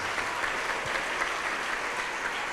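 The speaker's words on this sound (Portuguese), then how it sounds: "Vamos aplaudir ao nome de Jesus." Steady applause from a church congregation honouring the name of Jesus, a dense, continuous wash of many hands clapping at even loudness throughout, with no voice on top.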